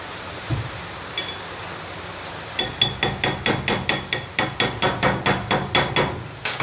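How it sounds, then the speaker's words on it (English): A hammer strikes a punch to drive broken bolts out of a part from an old Case 680CK backhoe, a few scattered taps followed by a rapid, even run of sharp metallic blows up close. "drive these guys out with a punch and some handiwork with my finger"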